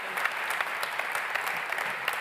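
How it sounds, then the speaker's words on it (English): Dense, lively applause fills the hall at the European Social Economy Awards gala, many hands clapping continuously and evenly throughout. "Round of applause."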